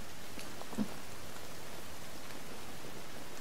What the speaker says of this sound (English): The rain has been relentless.